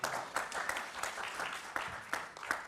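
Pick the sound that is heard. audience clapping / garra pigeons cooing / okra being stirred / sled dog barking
audience clapping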